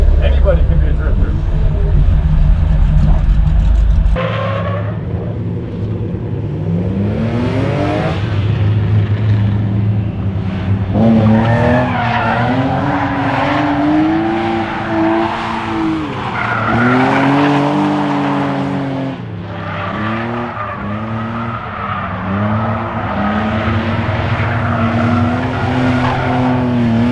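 BMW E36 drifting for the first time, engine revving hard with rising and falling pitch alongside loud tire squeal, close and continuous. Talk runs over it.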